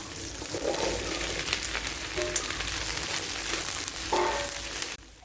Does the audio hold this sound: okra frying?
yes